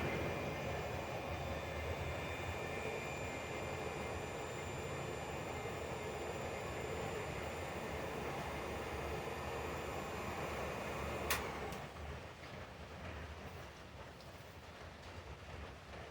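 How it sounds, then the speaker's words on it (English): Steady broadband hiss of rain drumming on a metal roof, continuous and fairly soft, with a sharp tick near the end before it settles slightly quieter. "if you hear that noise that starts sounding like white noise in the background, that would be the rain"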